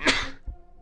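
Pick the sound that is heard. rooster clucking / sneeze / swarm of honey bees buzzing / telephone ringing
sneeze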